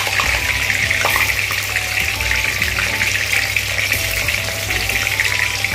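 Chicken muithya dumplings sizzle after being dropped into hot mustard oil, a loud, dense, continuous crackling hiss with bubbling, close and steady for several seconds with no talking.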